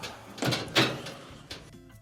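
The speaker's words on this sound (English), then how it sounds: "We'll go ahead and close the door." An LG dryer door is swung shut during a repair, giving a couple of short, close knocking thuds about a quarter second apart, then a fainter click near the end.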